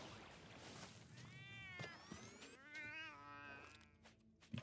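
Laser cat enemies in the video game Death Must Die give several drawn-out, wavering meows and yowls over busy game effects and impact sounds.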